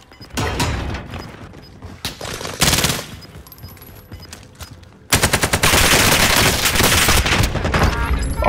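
AK rifle fire in Call of Duty, with loud rapid bursts of shots, brief gaps between volleys, then a dense sustained stream of automatic fire in the final few seconds.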